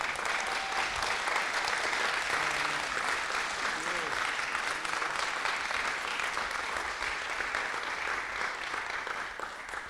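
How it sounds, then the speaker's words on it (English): An audience gives a sustained round of applause at a community presentation on housing affordability in Sonoma Valley, broad and even, with a faint voice beneath the clapping. "So let's just give all these people a round of applause."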